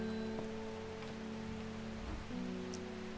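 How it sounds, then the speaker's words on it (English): Steady rain falls in the gloomy town of Undermere in the game Strange Horticulture, a soft continuous patter over a low game music drone, with no voices. "Did it ever stop raining in Undermere?"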